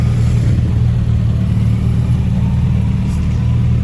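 A big Harley motorcycle engine with belt drive and a choke idles steadily and loudly close by, a continuous low throbbing rumble with no pauses.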